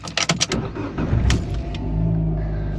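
A Fiat 500 with an engine fault is started after a repair, a few quick starter cranks catching into a steady idle that holds on after, close and alone.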